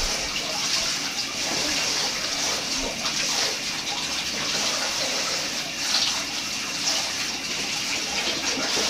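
Tap water runs steadily into a bathtub while an American Bully dog is rinsed of suds, a continuous close hiss and splash with no talk over it.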